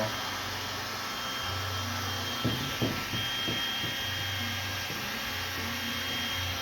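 A heat gun blows a steady, moderate whoosh while window tint film is heated on a car, with a few brief handling knocks and rustles partway through.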